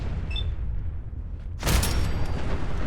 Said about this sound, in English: An immediate explosion there.